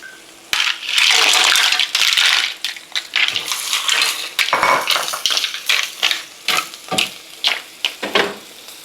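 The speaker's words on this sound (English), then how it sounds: "Next thing we're going to do is we're going to add in our mussels." Mussels tipped into a pot of ginger soup, with clattering shells, knocks against the pot and bursts of splashing and sizzling, close and busy, then scattered shorter clinks.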